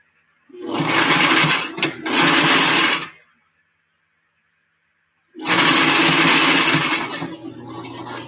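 A sewing machine stitches flat cap fabric freehand in two loud, close runs of fast whirring, the first briefly interrupted, separated by a couple of seconds of silence.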